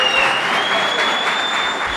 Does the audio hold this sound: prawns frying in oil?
no